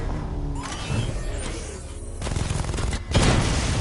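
Rapid chain gun fire in a Batman video game, dense mechanical bursts mixed with booms and clanking, loud and close with several surges over a few seconds.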